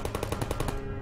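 A turret in the Portal video game firing a rapid burst of about nine closely spaced mechanical shots, loud and near, ending abruptly.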